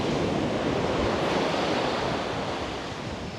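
Surf washing onto a busy palm-lined main beach near Tangalle on the Sri Lankan coast, a broad, continuous roar of waves mixed with wind buffeting the microphone, loud and steady, easing slightly at the end.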